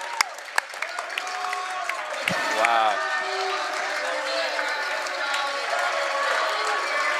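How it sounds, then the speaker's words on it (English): Sustained applause and cheering from the visiting crowd at a Dover-Sherborn versus Millis high school boys basketball game fill the gym, with a commentator's voice speaking briefly over the steady ovation. "And a big ovation from the visiting crowd."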